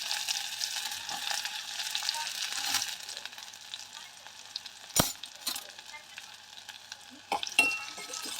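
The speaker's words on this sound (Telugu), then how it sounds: "ఉల్లిపాయ, పచ్చిమిరకాయలు అయితే కొద్దిగా ఫ్రై చేసేసుకుంటాను" Chopped onion and green chillies sizzle and fry in a pan on a home kitchen stove, a soft continuous hiss broken by a few sharp clinks and scrapes of a spoon against the metal.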